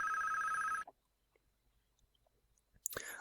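A telephone rings loudly in the Police Quest 3 computer game, a steady electronic ring that cuts off abruptly and gives way to near silence, then a brief burst of sound.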